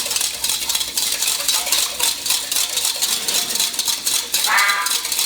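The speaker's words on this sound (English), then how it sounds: "And just going to quickly whisk that up." A metal whisk stirs salt into water in a bowl in a home kitchen, a steady, fast, light rattling and sloshing that continues throughout.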